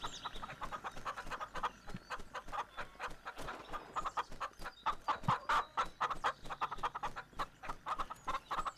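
A chicken clucks in repeated short bursts in the shotgun-and-farming video game Shotgun Farmers, fairly close and with no talk over it.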